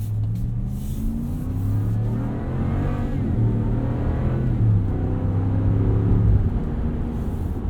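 A 2019 RAM 1500 Rebel pickup in two-wheel drive pulls through snow, its engine rumbling and revving up through rising gears. The drone stays steady and close and fills the whole clip.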